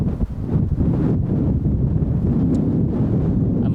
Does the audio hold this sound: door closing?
no